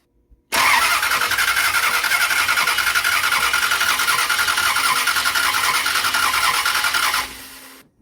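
A Motorhome 440 engine fitted in a 1968 Dodge Charger bursts into a loud, steady run close by, holds an even roar for about seven seconds, then cuts off abruptly.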